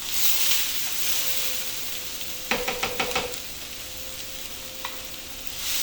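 Ingredients for a 15-bean and ham soup hit a hot pot, starting a steady, close sizzle with a brief cluster of crackling pops partway through, then settling back to a soft frying hiss.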